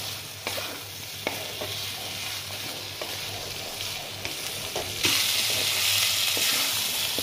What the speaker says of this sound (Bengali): আমার মশলা ভাজাটা হয়ে গেছে পটলের সঙ্গে।